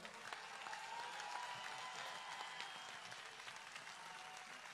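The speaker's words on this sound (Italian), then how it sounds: "Fategli un applauso vero" Audience applause at a NOTAV rally in Turin, a steady wash of clapping from a crowd, moderately faint and continuous throughout with no break.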